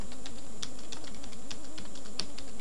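Keys tapped on a computer keyboard while a password is entered, a quiet run of light, irregular clicks spaced a few tenths of a second apart over faint background hum.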